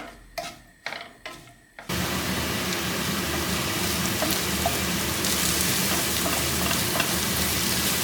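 Leeks hiss and sizzle in a hot pan, a loud steady frying roar that starts abruptly after a few sharp knocks.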